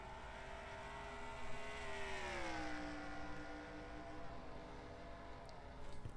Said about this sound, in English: I think Ryan Blaney just might have a better handle on these stock cars